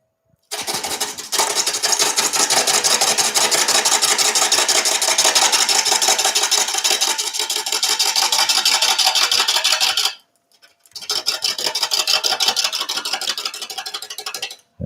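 A live edge burl bowl turning on a lathe as the tool cuts into solid timber, giving a loud continuous rasping scrape that runs for about ten seconds, stops briefly, then resumes.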